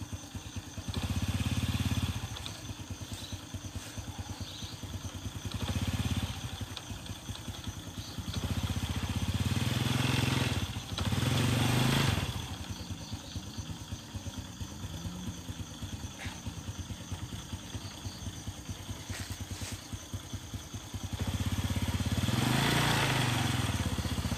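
A motorcycle engine runs nearby at a fishing spot at Saguling, idling with a steady chugging rattle and swelling into several louder revving bursts before dropping back to idle, with no speech.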